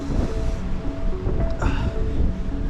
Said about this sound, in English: Just quite windy